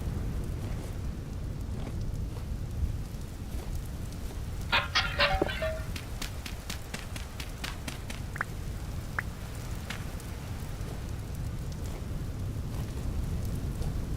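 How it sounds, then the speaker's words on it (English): Rain falls steadily in the Vintage Story video game as a soft, constant patter, with a few brief chirps and short clicks from the game world over the top and nobody talking. "It's starting to rain."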